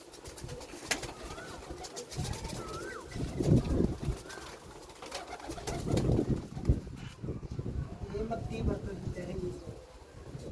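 Racing pigeons coo in soft, repeated throaty calls at close range over a steady outdoor hum, with faint voices talking in the background throughout.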